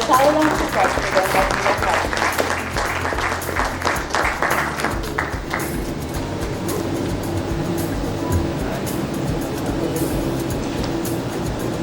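Audience applause at a chef awards ceremony in India, a dense, continuous clapping of a large crowd that fills the hall and stays loud throughout, with voices mixed in underneath.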